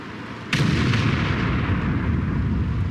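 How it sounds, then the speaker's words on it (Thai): A tank cannon fires in the World of Tanks game, Jagdpanzer E 100, with a single sharp, loud blast followed by a sustained rumbling roar and noisy tail, heard alone without talk. "ยิงกันแล้วครับ"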